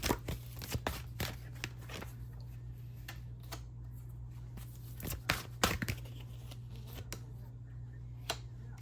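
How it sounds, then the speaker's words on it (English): A deck of tarot cards is shuffled close up in a quiet room, giving repeated crisp riffling bursts and soft slaps at an irregular pace with faint background hum between them. "I'm going to be live shuffling."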